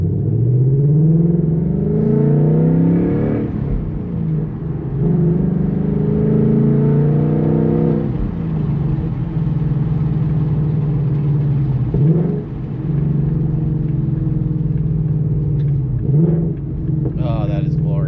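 A Ford Mustang 5.0 V8 with its resonator deleted rumbles at idle, heard from inside the car with the windows down, and is blipped in a few short revs. A voice talks over the engine.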